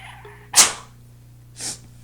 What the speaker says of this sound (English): yep, that was a sneeze